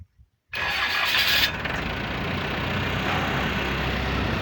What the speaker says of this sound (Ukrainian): От так він заводиться.